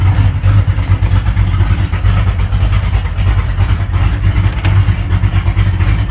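An unfinished family project car creeping along in gear under its own power: a loud, close engine rumble with a steady low throb and fluctuating revs throughout, with no talk.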